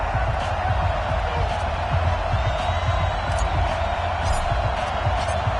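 Stadium crowd noise from an EA Sports NFL video game on PS4, a steady roaring wash of cheering fans before a home team takes on the New England Patriots, continuous and loud throughout without clear breaks.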